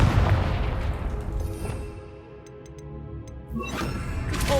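A Confringo blasting spell in Hogwarts Legacy goes off as a heavy, booming explosion that rumbles and fades, then a second burst rises at the end.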